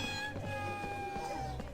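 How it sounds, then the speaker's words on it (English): Pixies in the Harry Potter and the Chamber of Secrets PS1 video game give off cat meow sound effects, a few drawn-out meows over a steady tonal game background. "they have weird sound effects for each of the animals, like pixies sound like cats for some odd reason"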